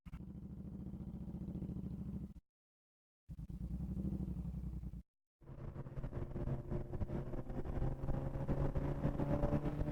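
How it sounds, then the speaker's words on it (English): A loud superbike exhaust roars steadily during a group ride, cutting out twice briefly before returning with a rumbling, throaty drone. "I have to shout top of my voice today because the exhaust is too loud"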